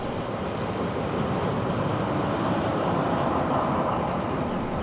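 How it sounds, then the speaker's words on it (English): A diesel locomotive assisting a picnic special train passes through Carlton, New South Wales, giving a steady, loud rumble and broadband roar that holds for the whole stretch with no speech. "We now see the locomotive passing through Carlton on its return journey."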